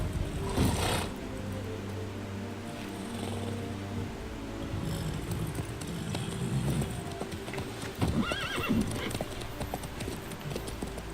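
A horse's hooves clip-clop in a steady, close rhythm while riding in The Witcher 3: Wild Hunt, with a short snort or whinny and soft background ambience around the hoofbeats.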